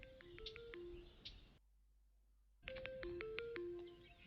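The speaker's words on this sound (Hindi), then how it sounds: "वीडियो सर का फोन आ रहा है।" A phone ringtone sounds for an incoming call: two bursts of a bright electronic melody, clear and close, separated by a second of silence.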